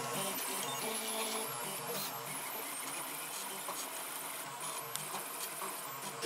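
A 3D printer prints ABS with a continuous whirring, buzzing hum from its stepper motors and fans, moderately loud and steady throughout without talking.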